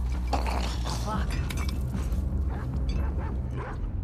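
Dogs bark and yip in a tense courtyard scene from The Last of Us Part II, with short agitated barks mixed into game sounds while a person talks over them.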